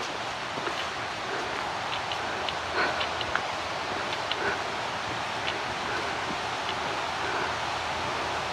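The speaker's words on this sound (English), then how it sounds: "Looks like we're gonna have us a little bit of a stream up here." A small mountain stream flows along a muddy hiking trail in the Great Smoky Mountains, a steady broadband rush of water, fairly close and even throughout with no talking.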